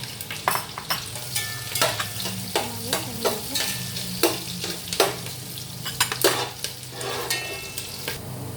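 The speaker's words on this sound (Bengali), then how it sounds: "প্রথমে আমি একটা পাত্রে তেল দিয়ে এর মধ্যে কাঁচামরিচ, পেঁয়াজটা ছেড়ে দিব" Green chillies and onion frying in hot oil in a pot, a loud close crackling sizzle broken by frequent clattering stirs and scrapes of a utensil against the pot.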